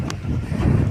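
Strong outdoor wind at a village cooking spot, buffeting steadily as a low, rumbling roar that swells louder toward the end, with no voices.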